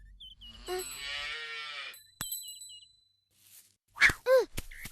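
A calf lowing in an animated Hindi-dubbed Little Krishna cartoon: a drawn-out tonal moo lasting about a second, followed by a few sharp clicks and two short, punchy calls near the end.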